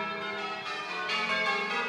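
Church bells rung by bell ringers in the town of Cookham, a steady wash of overlapping metallic tones sounding continuously and fairly loud throughout, with no voices.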